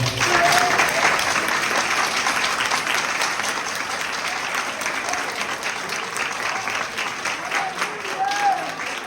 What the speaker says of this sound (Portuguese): Dê uma salva de palmas para esse Cordeiro.